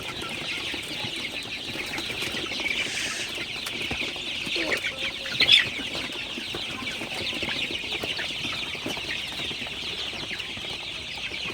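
Sonali super hybrid chickens, 35 days old, cluck softly and steadily at night, a low continuous farmyard murmur with an occasional louder squawk.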